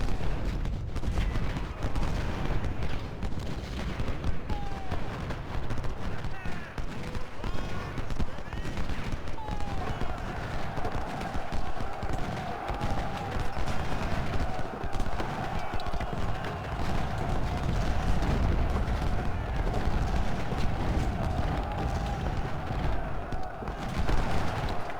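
Gunfire and artillery from the Ultimate General: Civil War video game during the Siege of Suffolk, a dense continuous rumble of shots and booms running under excited commentary throughout.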